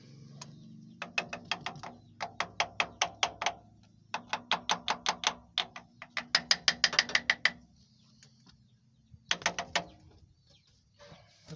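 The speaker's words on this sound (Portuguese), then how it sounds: "Vamos ali dar umas cacetadinhas no motor de partida" A small hammer taps repeatedly on a car starter motor, quick bursts of sharp metallic knocks in clustered runs with short pauses between, close and clear with a faint low hum underneath.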